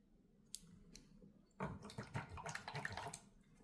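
Paintbrush being swished and rinsed in a water container, a couple of faint drips followed by a longer burst of sloshing and splashing, close and moderately quiet.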